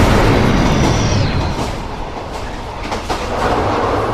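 A goods train runs loud and close, wheels clattering over rail joints, with a brief high metallic squeal early on before the rumble settles into steady clickety-clack, with no talking.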